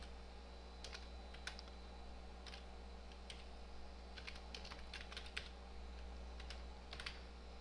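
Someone types on a computer keyboard in Notepad, a quiet close patter of irregular key clicks in short clusters over a low steady hum, with no voices.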